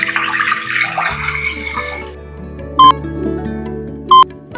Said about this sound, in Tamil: இப்ப நம்ம தண்ணி ஊத்திக்கலாம்.